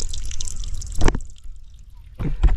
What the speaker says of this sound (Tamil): பாருங்க எப்படி தண்ணி ஊற்றிக்கிட்டு இருக்கு அப்படிங்கிறத.